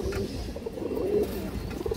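A silver bezi pigeon cooing, soft low throaty coos repeating in a muffled, close rumble with faint background noise.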